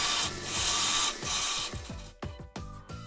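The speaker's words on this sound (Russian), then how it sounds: "Скруглять шайбу я буду с помощью гриндера." A grinder rounding the edge of a metal washer, a close, harsh grinding hiss in repeated short passes, then several quieter clicking scrapes as the work is adjusted.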